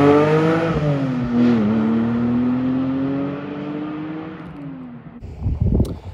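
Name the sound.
car driving down a mountain road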